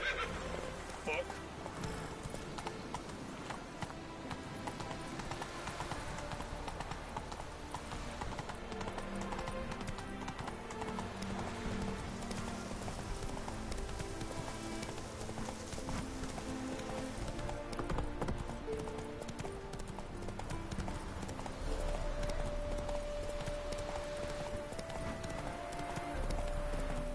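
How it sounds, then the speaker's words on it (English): Horses in The Witcher 3 gallop with continuous clip-clop hoofbeats and repeated neighs, set against game music and ambience, with someone talking over them. "The horses."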